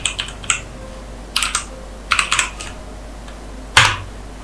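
Keys clatter on a computer keyboard while coding, several quick clusters of close taps with short pauses, ending in one firmer, louder keystroke like an enter press.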